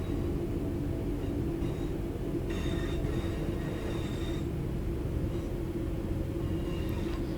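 A simulated train in Train Sim World 4 rolls on from Piccadilly toward Hadfield under a bit of power, a steady, dense rumble of wheels and motors with faint squeals and clicks riding over it throughout.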